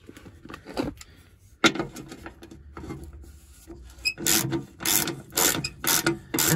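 A breaker bar cracks loose 13 mm bolts during a full service on a 2012 Range Rover Sport SDV6, giving a sharp metallic snap followed by repeated close ratcheting clicks and short mechanical bursts, with no talking.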